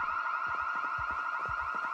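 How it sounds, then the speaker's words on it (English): Several car alarms in the Project Zomboid video game blare at once in a steady, loud, warbling wail, with a rapid series of low thumps pulsing beneath it. "Why does it sound like multiple alarms?"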